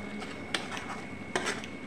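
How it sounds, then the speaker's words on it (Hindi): A spoon scrapes and clinks against a pan while besan curry ingredients are stirred together, with quiet repeated stirring sounds and two sharper taps against a faint background hiss. "बस अब इन सारी चीज़ों को मिक्स कर लेंगे।"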